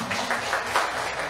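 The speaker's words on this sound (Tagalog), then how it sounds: "Dagdagan nyo yung palakpak nyo." A church congregation claps together in a steady, dense wash of applause that holds at an even level throughout, with no voices rising above it.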